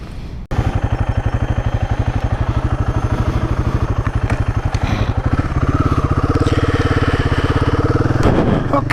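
A Royal Enfield 450 Guerrilla motorcycle on the road gives a loud, close single-cylinder thump with fast even pulses that quicken slightly as it pulls away, with wind rush over the top.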